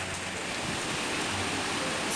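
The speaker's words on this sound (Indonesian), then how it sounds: "di luar itu hujan ya, kemudian ada anginnya juga, jadi ini hujan angin ya teman-teman" Windy rain falls outdoors as a steady, even hiss of drops, moderately loud and unbroken throughout, with no talking.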